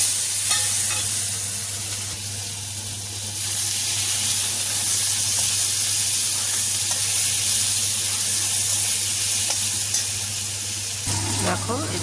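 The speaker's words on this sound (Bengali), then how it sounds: "ওই তেলেই আমি আর একটু 1 চামচ তেল দিয়ে দিলাম। দিয়ে এবার আমি দেখো আলু কেটে রেখেছিলাম, আলুটাকে ভেজে নেব।" Potato pieces fry in oil in a kadai, giving a steady, loud sizzle with occasional stirring scrapes and a constant low hum running beneath, no talking.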